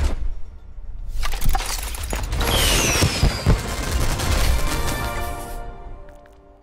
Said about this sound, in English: Now those are some fireworks.